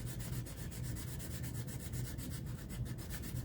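Continuous, even rubbing strokes of hand sanding with 600 grit sandpaper on a Black Hole pinball playfield, a soft steady rasp heard close up with no voices.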